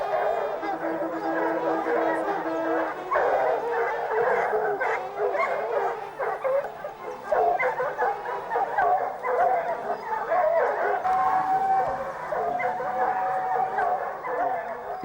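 A pack of hunting hounds bays and yelps continuously during a stag hunt in the French countryside, a dense chorus of overlapping howls and barks at moderate distance, with a voice speaking over it.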